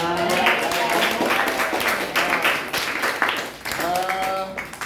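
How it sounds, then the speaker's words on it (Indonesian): A classroom of students clapping for the first-, second- and third-place winners, with uneven claps mixed with voices and chatter throughout. "ini yang juara 1, 2, 3 kasih tepuk tangan"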